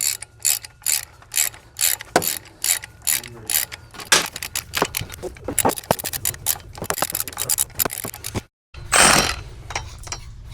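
A ratchet wrench clicks in quick repeated bursts while tightening flywheel bolts on a 1000HP BMW F10 M5 build, close and sharp, with scraping handling noises and brief pauses between strokes.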